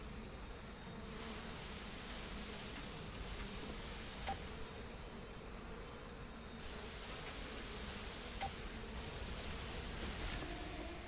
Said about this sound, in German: Was machen wir denn gegen die Bienen?